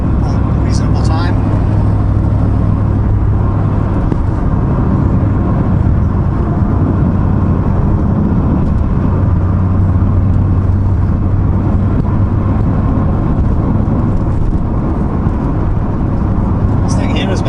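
Hot rod car driving on the road toward Indianapolis during the Hot Rod Power Tour, a loud, steady engine drone and road rumble heard from inside the car without a break.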